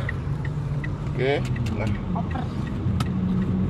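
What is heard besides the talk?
car driving and shifting gear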